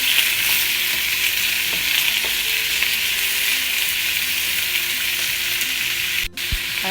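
Chopped tomato being mixed and fried in a hot pan for an Arabic fish, vegetable and rice dish: a steady, dense sizzle runs throughout, with light scraping stirs and a brief drop near the end.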